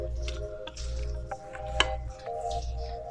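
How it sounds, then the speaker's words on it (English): Pastry cream is poured into an eclair mixture, making soft, wet squishing and dripping sounds with a few sharper plops over a low background rumble. "Now we are going to pour the rest of the cream"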